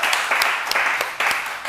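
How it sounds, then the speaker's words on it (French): An audience claps steadily through a short burst of applause at a music show in Agboville, Agnéby-Tiassa, with dense, brisk hand claps and no voices. "On applaudit"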